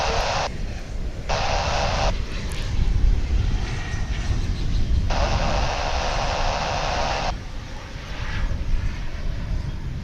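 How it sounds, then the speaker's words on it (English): An American Eagle CRJ 700 jet arriving from San Angelo, Texas, at DFW, a steady jet rumble under bursts of hissing radio static that cut in and out. "3262 coming at us from San Angelo, Texas after a 43-minute flight. A CRJ 700."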